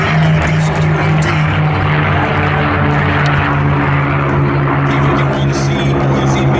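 A P-51 Mustang warbird at the Planes of Fame airshow, its piston engine giving a loud, steady propeller drone throughout with a low tonal hum, plus faint crowd noise.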